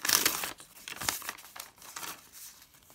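Close crinkling and a sharp tear of a thin plastic packet being opened, a few quick rustling bursts with no talking.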